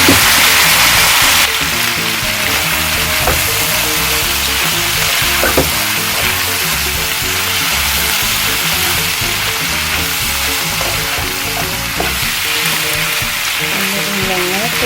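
Carrots and cabbage sizzling in a hot pan for fried rice, a loud, dense, continuous frying crackle with occasional stirring scrapes, while a voice speaks briefly.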